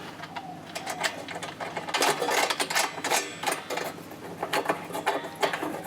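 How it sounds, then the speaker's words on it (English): A ratchet wrench tightening bolts on lightweight aluminum storm panels gives rapid clicking pawl strokes in repeated bursts, close and fairly loud, with no talking over them. "Just ratchet and tighten up the bolts like that."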